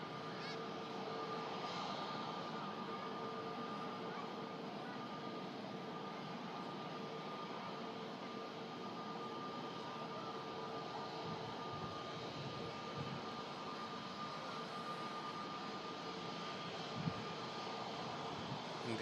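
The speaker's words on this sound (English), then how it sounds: "Here comes now the Scandinavian A320 Neo" A Scandinavian Airbus A320neo jet at Manchester Airport drones steadily with a sustained engine roar and a faint high whine, holding at a moderate distance throughout, with no strong rise or fall.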